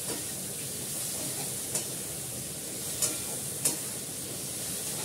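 Chhana kofta curry is sautéed and stirred in a pan with a soft, steady sizzle, and a few faint scraping clicks from the stirring stand out.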